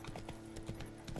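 A horse galloping in The Witcher 3 video game, a brief run of soft rhythmic hoofbeats over a low steady hum, faint and short.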